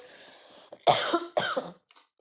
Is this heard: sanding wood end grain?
no